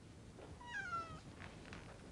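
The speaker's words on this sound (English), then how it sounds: "I had the distinct impression I heard a cat mewing, either in this room or very close at hand." A single faint cat mew rises and falls in a quiet room, heard alone against a soft background hiss with no talk.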